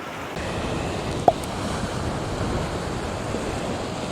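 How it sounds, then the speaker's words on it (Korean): Sea waves washing on the East Sea shore, a continuous broad rush of surf with wind noise, steady and moderately loud, with one brief sharp knock partway through and no talking. "그러니까 파도도 아까보다는 조금 죽은 것 같아요."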